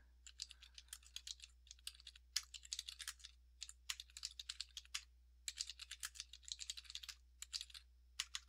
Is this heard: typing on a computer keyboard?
yes